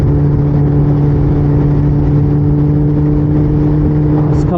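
A motorcycle engine drones steadily at close range on a road ride after a downshift, its tone holding even with a slight rise in revs near the end.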